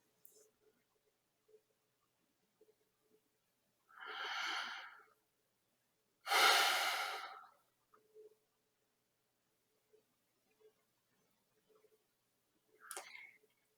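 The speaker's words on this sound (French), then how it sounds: "Prenez quelques grandes respirations." Deep breaths during a guided meditation: a few slow, isolated breaths, one a long inhale and another a stronger exhale, close and soft, separated by near silence with faint ticks.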